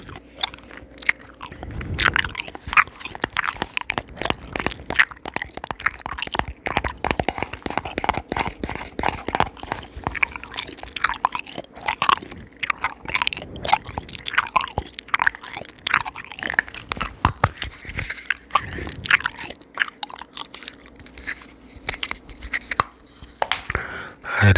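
ASMR bubblegum chewing close to a microphone, a steady run of wet smacks, squishes and clicking mouth sounds in an irregular rhythm, intimate and fairly loud with no talking.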